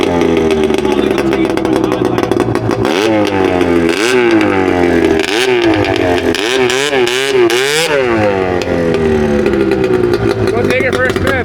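A Yamaha Exciter snowmobile engine revs loudly and close, climbing and falling in several repeated bursts over a rough, clattering idle, with a voice partly under it.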